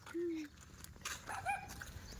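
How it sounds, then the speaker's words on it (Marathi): A small puppy gives a few faint, thin yelps and whimpering barks at a village pilgrimage fair, brief and scattered against quiet outdoor background noise, with no voices. "ते पिल्लू बघा ना कसं भुकतंय"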